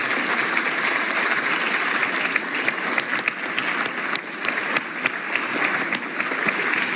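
Steady audience applause in Venezuela's National Assembly, a broad wash of clapping from a large crowd that holds at an even level for the whole stretch with no talking.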